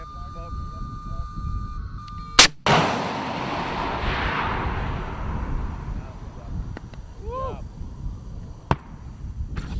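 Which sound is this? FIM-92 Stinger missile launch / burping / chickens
FIM-92 Stinger missile launch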